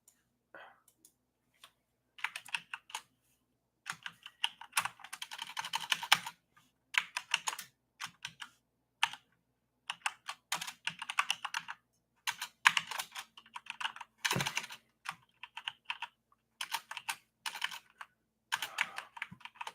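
Quick bursts of clattering keystrokes on a computer keyboard come in irregular runs separated by short pauses, close and crisp in a quiet room.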